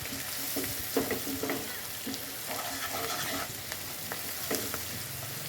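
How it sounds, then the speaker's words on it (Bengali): Onion, green chili, shrimp, turmeric and salt sauté in hot oil in a wok, a steady close sizzle broken by repeated scraping stirs, with no voices. "কড়াইতে একে একে দিয়ে দিয়েছি তেল, পেঁয়াজ, তারপরে কাঁচামরিচ, তারপরে চিংড়ি মাছ, তারপরে হলুদের গুঁড়ো, লবণ, এগুলো দিয়ে ভালোভাবে কষিয়ে নিচ্ছি।"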